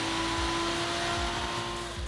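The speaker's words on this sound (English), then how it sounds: "After letting the car run for a bit to mix the fuel, we proceed with tuning." A 2020 Toyota Supra engine runs on a dyno during fuel tuning with high-octane fuel, giving a loud, steady, continuous drone with a constant pitch and low rhythmic pulsing throughout.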